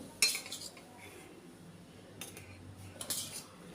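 A metal tablespoon scoops grated coconut and rice flour into a puttu maker, a few sharp clinks against the metal vessel separated by quiet pauses.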